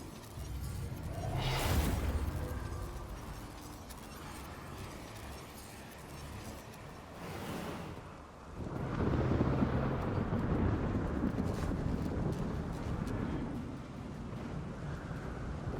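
A storm-like Jinn is summoned in The Witcher 3, sounding like a roaring, windy rumble with crackling, thunderous surges, loud and continuous, swelling sharply around two, eight and nine seconds.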